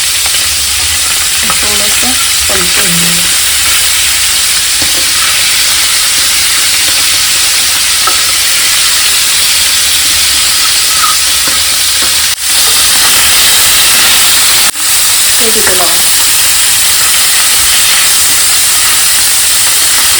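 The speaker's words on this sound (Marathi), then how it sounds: "आता आपलं दोन्हीकडे फ्राय होते" Nivate fish fry in hot oil in a pan on a gas flame, both sides cooking, giving a loud, steady sizzle and hiss throughout with occasional faint clinks and sharp ticks.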